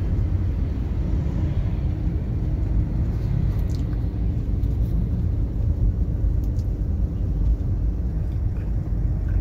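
Heavy traffic in a total jam on the Ampera bridge, a constant low rumble of idling and slowly moving engines filling the scene with faint horn-like tones drifting above it.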